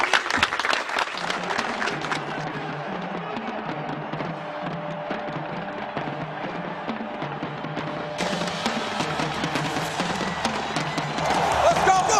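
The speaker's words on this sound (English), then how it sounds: "Give yourselves a round of applause." Sustained audience round of applause from a crowd at a 1998 Minnesota Vikings NFL event, steady dense clapping throughout with some crowd noise, swelling slightly louder near the end.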